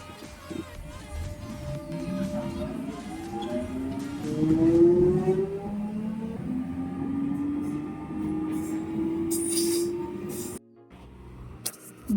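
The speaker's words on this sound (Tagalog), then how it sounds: "Please mind the gap between the train and the platform." A London Underground Metropolitan line train at Finchley Road station hums and whines through the platform, its motor tones rising and falling in pitch steadily before cutting off abruptly near the end.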